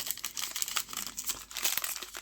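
A pack of Disney Frozen trading cards torn open by hand, close crinkling and ripping foil wrapper with irregular crackles and short tearing bursts, no voices.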